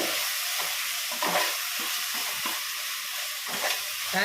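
Tomatoes sauté in a hot pan with a steady, close sizzle, broken by a few soft scraping stirs every second or so as a vegetable biryani base cooks. No voices.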